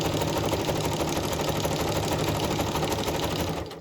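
A sewing machine zigzag-stitches a paper journal page with a fast, even, close mechanical chatter that runs unbroken before tapering off at the end.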